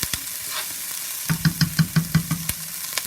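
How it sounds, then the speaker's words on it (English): Onions frying in olive oil crackle with a steady sizzle while being stirred. A quick series of rhythmic knocking scrapes from the utensil against the pan follows, close and fairly loud. "Just want to kind of mix those onions up."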